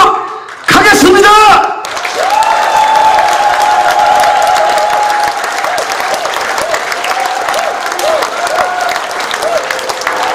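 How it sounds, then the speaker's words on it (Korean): A crowd claps loudly for about a second at a campaign office opening for a Yangpyeong county governor candidate, followed by sustained tonal sounds with a busy background. "다시 한번 큰 박수 보내주시기 바랍니다"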